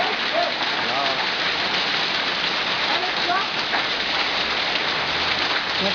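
Hailstones pelting a pavement sidewalk during a hailstorm in São José dos Pinhais, making a dense, steady, loud patter, like popping popcorn, that continues without a break.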